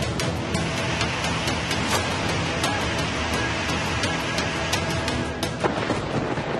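Heavy, steady downpour in Bengaluru roaring throughout with sharp thunder cracks and rumbles breaking through, loud and close, with no voices.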